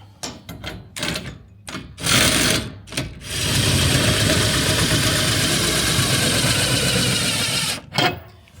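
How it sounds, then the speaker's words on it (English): An impact wrench with a 3/4 socket drives and tightens bolts while a barrel sauna is assembled. Short bursts come first, then one long, loud, steady hammering run, with brief bursts again at the end. "We just use a 3/4 socket on an impact."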